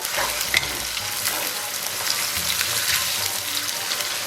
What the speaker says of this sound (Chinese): 咱们给锅里边稍微来点辣椒酱，给它煸炒出红油